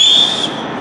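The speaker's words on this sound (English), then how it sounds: "I can whistle really loud" A single loud, piercing whistle blown by a person at a protest outside Portland City Hall, held strong for under half a second and then fading away.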